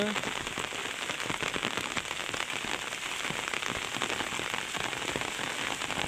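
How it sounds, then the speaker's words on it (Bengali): Heavy rain pours steadily onto an open field, a dense continuous hiss of drops with scattered sharper patters, loud and unbroken throughout. "দেখুন মাঠে কি পরিমাণে বৃষ্টি হচ্ছে।"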